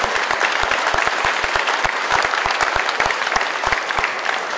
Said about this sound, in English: if we could all just give everybody a big round of applause that made all of this possible for them